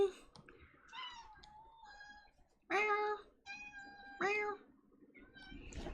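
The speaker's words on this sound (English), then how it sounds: "My cat's talking to me." A house cat meows repeatedly indoors, several drawn-out, rising calls in short bursts with pauses between, fairly close and clear.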